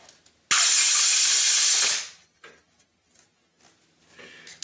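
Compressed air hisses loudly for about a second and a half, blowing brake cleaner out of a threaded hole in a Mercedes 560SL engine, then cuts off, leaving quiet tool and handling noises.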